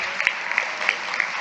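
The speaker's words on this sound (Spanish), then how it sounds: "Hoy Cintia López Castro, a quien pido un aplauso" A crowd at a world conference of women parliamentarians applauds steadily, a dense patter of clapping with a few sharper claps standing out, fairly close.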